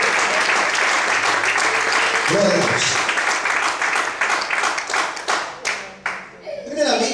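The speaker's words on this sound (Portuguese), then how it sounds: "Você pode aplaudir e exaltar o Senhor muito forte." A church congregation applauds loudly and continuously, with dense close clapping that breaks into uneven bursts near the end while a voice speaks over it.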